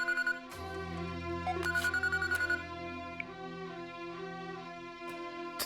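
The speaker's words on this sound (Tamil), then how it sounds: "அப்பா, தர்மன் சித்தப்பா ஃபோன் பண்ணுறாரு." A telephone rings with an incoming call indoors at home, a steady repeating ring over low background tones, moderately loud and with no talking over it.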